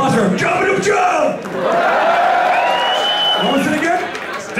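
A concert crowd at The Garage in London cheers loudly, with whoops and long shouted calls swelling and overlapping throughout. Voices are mixed in.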